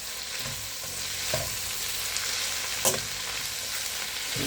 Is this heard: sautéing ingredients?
yes